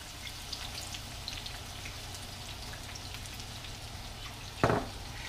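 Perch or crappie fish half deep-fry in hot oil, a continuous close crackling sizzle like steady rain, with one brief louder burst of spatter near the end and no talking.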